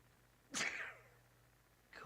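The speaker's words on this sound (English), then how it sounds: "Oh, I feel a sneeze coming on." A single sharp human sneeze bursts out close and loud in a quiet room, trailing off after about half a second, with the start of another breathy sound at the end.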